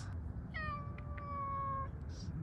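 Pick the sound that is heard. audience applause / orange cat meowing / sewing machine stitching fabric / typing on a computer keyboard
orange cat meowing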